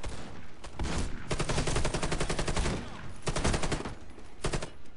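An FY-47 rifle in the shooter Warface fires in sustained rapid automatic bursts, loud and close, with brief pauses between strings of shots.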